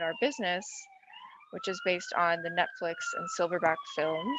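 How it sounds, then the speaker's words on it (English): Emergency vehicle sirens wail outside a home workspace, a rising and falling tone running steadily underneath continuous talk. "sorry if you hear the sirens in the background"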